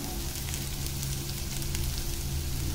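Spices frying in a pan with degi chilli added, a dense, even sizzle and crackle that runs close and steady throughout with no talking.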